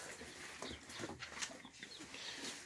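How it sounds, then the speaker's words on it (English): Soft, high cheeps and peeps from young chicks come through faint background noise, scattered and close by. "And now we have to look at the adorable baby chicks."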